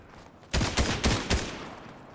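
Video game gunfire: four loud, sharp shots in quick succession, each a broadband burst spaced about a quarter second apart, close and prominent with no talk over them.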